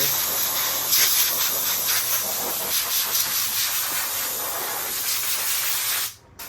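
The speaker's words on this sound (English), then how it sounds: "There's a quick little blow off here with the compressed air." Compressed air blasting off a cracked car dashboard, a steady broad hiss close by that runs for about six seconds and then cuts off abruptly.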